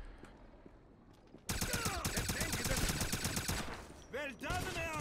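Machine gunfire in the Wolfenstein video game, a sudden loud, sustained burst of rapid shots after a quieter stretch, with a few shouted voices breaking in near the end.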